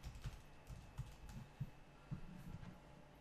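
Quiet typing on a computer keyboard while a location name is entered, soft irregular key taps close by over a low steady hum.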